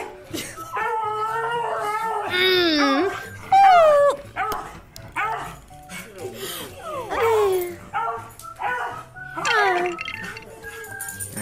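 A puppy yips, whines and gives short high barks and little howls in uneven bursts, close by, with brief pauses between cries.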